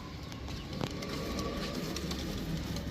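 Crested pigeons coo softly amid steady background noise, with a few faint, brief calls standing out against a constant hum.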